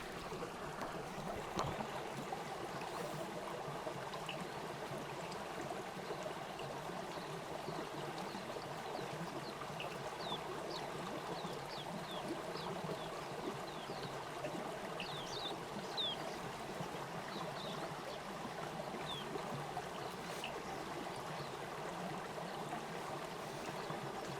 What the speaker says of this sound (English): We're about 3 yards away from the falling water.